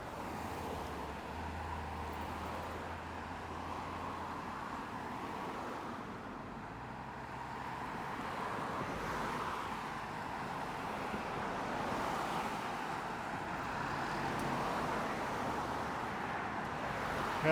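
Faint, continuous road traffic rumble and wind wash heard from an Aventon Aventure e-bike waiting at a roadside, steady and distant with passing vehicles swelling softly, no talk.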